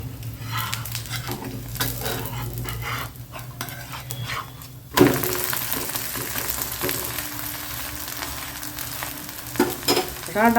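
Grated bottle gourd adai batter frying in oil on a pan, a steady close sizzle and crackle with brief clinks of a utensil against the pan, swelling louder midway as the pancake is flipped.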